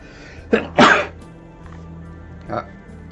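A person with an allergy to cats and horses sneezes twice in quick succession, a short intake followed by a loud burst, then a softer third snort a moment later, close to the microphone in a quiet room.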